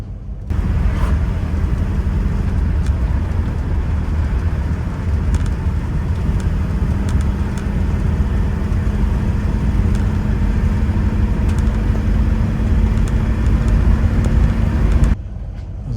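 A 1969 Rover P5B drives along at speed, giving a steady, loud engine and road rumble that holds evenly for the whole stretch with no talking.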